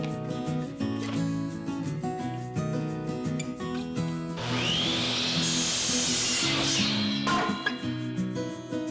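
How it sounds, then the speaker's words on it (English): A saw cuts 8-foot red cedar lumber into 4-foot sections, a loud whining cut of about three seconds rising over steady background music. "We're going to cut it into 4 foot sections."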